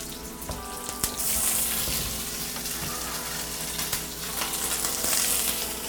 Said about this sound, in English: Scallion in. Get our spam in.